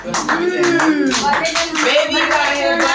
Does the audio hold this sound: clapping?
yes